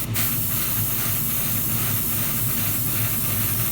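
An airbrush mists paint onto the engine bay parts of a 1:24 Tamiya Ferrari LaFerrari model kit, giving a steady, even hiss of air and spray close by without pause or speech.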